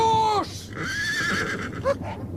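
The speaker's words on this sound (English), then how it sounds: "My horse!" A horse neighs loudly in a radio-drama scene, a shrill descending whinny up front followed by clip-clopping hooves and a brief second snort, with voices faintly beneath.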